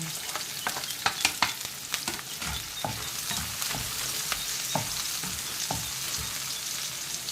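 Onion sizzles loudly in a hot pan for pork giniling, a steady broadband frying hiss with occasional stirring clicks and scrapes, close up and with no talk.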